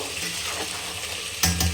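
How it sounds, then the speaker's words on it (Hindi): Potato and boro curry frying in an aluminium pan, a steady close sizzle with a short clatter of utensil and lid near the end. "अब इसको हम भूनने देते हैं और इसको हम ढक देते हैं।"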